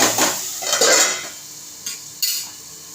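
A metal lid is set down on a cooking pan of softened onion paste for a dhaba-style egg masala, giving loud clattering clinks early on, then two short knocks against quieter kitchen background.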